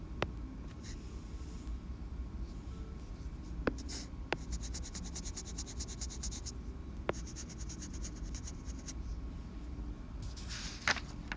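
Pen or marker scratching out solutions to absolute value equations, steady soft strokes with a few sharp taps, quiet and close with no talk.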